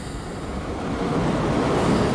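A train passing in Train Simulator 2015 on the Cologne–Koblenz line, a broad rushing rumble that swells gradually louder, steady and without voices.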